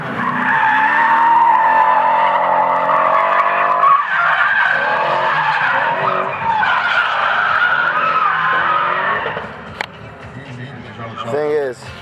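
At a street drift event a car slides through a long drift, tires squealing loudly and continuously over a revving engine up close, with people talking over the noise.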